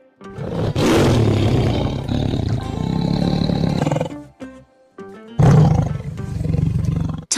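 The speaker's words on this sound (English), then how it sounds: "Tiger." A tiger roars loudly and close, a long rough growling bellow lasting several seconds, a short near-silent pause, then a second forceful roar.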